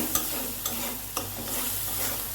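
Spice paste with salt is stir-fried in a pan for a hilsa curry, giving a steady, close sizzle with a few sharp spatula taps spaced out along it.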